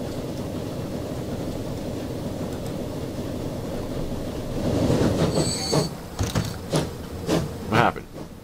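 A train in Transport Fever 2 rumbles past with a steady rolling roar, then wheel squeals and rhythmic clacks rise near the end, a voice speaking briefly over it.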